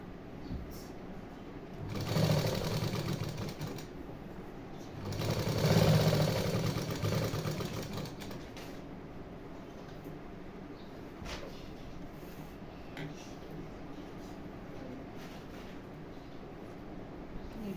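A sewing machine stitches a neckline on a garment, whirring in two louder bursts early on and then dropping to a quieter, steady mechanical hum.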